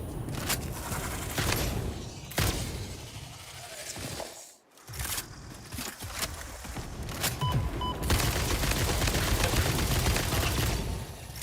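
Sustained rifle fire in the video game Satisfactory as a full magazine is emptied, a dense rapid stream of shots with a short pause partway through before the firing resumes.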